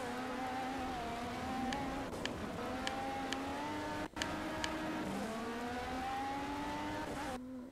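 Race cars in the Project Cars video game roar steadily, several engines droning with rising and falling pitch as they accelerate in a pack, with a few brief clicks and a sharp dip near the end.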